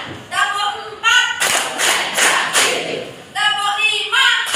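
A classroom of students claps together in a counted pattern, several broad bursts of group clapping between a teacher's spoken count, moderately loud and close.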